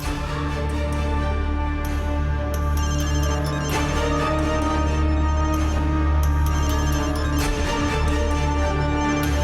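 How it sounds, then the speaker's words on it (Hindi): A melodic phone ringtone plays continuously, its tones recurring in regular phrases over a full, steady background with no talking. "उठा ले भाई, फोन उठा ले।"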